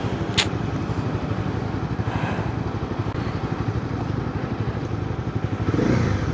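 A motorcycle engine runs steadily at close range as the ride gets underway, a continuous low rumble with a brief sharp click near the start and a slight rise toward the end.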